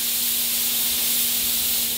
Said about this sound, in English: so that's the steam coming out now